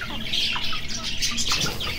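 Polish chickens in a cage give busy chirps and squawking calls that overlap continuously at close range, with no pauses between them.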